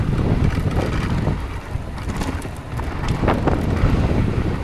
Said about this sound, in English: It's super windy right now through here, so I can't imagine the audio sounds good without a mic or a wind buff.